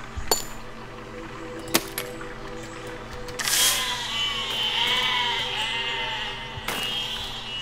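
Sheep in the video game Besiege bleat loudly in a long wavering call, set among sharp clicks and a few knocks from the game.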